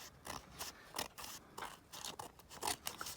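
Scissors trim stencilled paper for a journal page, a quiet, close series of quick crisp snips and crunches in an uneven rhythm, each cut short and dry.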